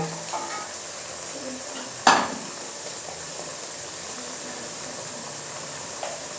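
A masala and yogurt mixture for white egg korma sizzles in a pan with a constant soft hiss, marked by one sharp utensil clank early on and a faint knock near the end.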